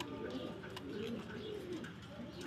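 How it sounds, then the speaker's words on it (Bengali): A pair of pigeons coo softly nearby in short, continuous throaty rolls, with faint background noise. "একজোড়া কোয়ালিটিফুল কবুতর"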